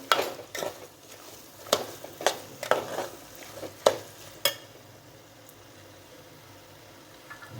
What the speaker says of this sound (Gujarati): હવે એને હલાવી નાખશું એકદમ